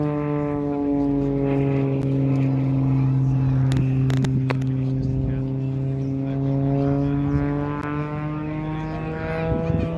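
A steady, loud engine drone from an aerobatic aircraft using a 540 Lycoming engine at the Shell Harbour NSW air show, with a sustained tone that shifts slightly in pitch as the plane manoeuvres overhead.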